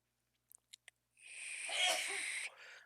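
A single sneeze from someone off to the side, preceded by a few short sharp clicks, with a breathy wheezing burst lasting over a second, fairly close and clear with no talking.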